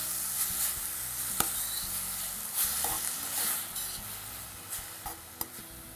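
Radish sautés with ginger and green chilies in a pan, a soft, steady sizzle broken by occasional sharp clicks and scrapes of stirring, with no voices.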